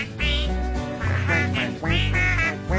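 A duck quacks repeatedly and loudly up close, in a run of nasal, evenly spaced calls with short gaps between them.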